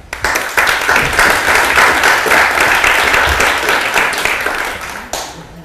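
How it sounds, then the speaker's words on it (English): A crowd at an award pitching session claps in sustained, even applause for several seconds, then it tapers off. "So a big applause for Maria."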